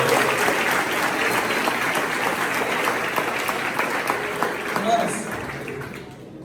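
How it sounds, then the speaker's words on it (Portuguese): Congregation applause at a Brazilian youth church service, dense and sustained clapping for several seconds before tapering off toward the end. "Se você crê nisso, dá uma salva de palmas."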